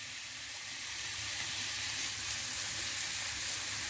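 Hot oil hissing and sizzling steadily in a pan as an onion cooks, a soft continuous crackle that builds slightly and stays close.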